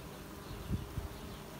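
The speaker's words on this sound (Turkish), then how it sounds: "kovan içi çalışan arılar, işçi arılar, bakıcı arılar." A faint, low hum of honey bees buzzing inside a hive, with a couple of brief louder bumps.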